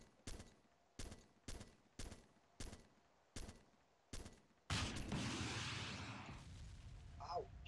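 Rapid heavy quad cannon fire in ArmA 2: about eight evenly spaced booming shots, then a sustained rushing blast that slowly fades.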